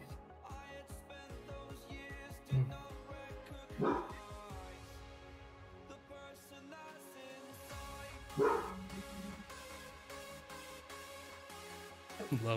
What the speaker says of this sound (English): It's not a lab bark, that's a little maniac bark.